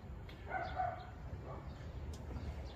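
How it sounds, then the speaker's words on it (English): A dog barks outdoors, faint and distant, with a short burst of a couple of barks under a steady low background hum. "Dog's blowing up out there."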